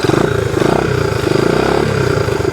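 A motorcycle engine idles and runs steadily up close, a throbbing low rumble with mechanical clatter and slight wavering revs, continuous throughout with no voices.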